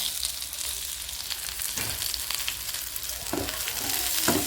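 Coriander seeds, cumin, chana and urad dal and black pepper frying in a pan for pirandai chutney, giving a continuous bright crackling sizzle with a few soft stirring knocks near the end.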